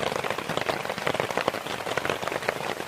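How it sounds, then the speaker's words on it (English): Heavy rain pouring onto a mesh A-frame tent and army basha in the middle of the night, a dense, steady hiss of drops with constant close patter, loud and unbroken. "There's been no let-up at all with the rain."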